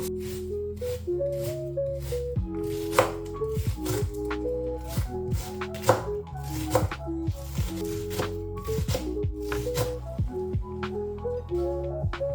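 Knife chopping onions on a cutting board for stuffed zucchini, a series of sharp, irregular chops fairly close, with soft music running underneath.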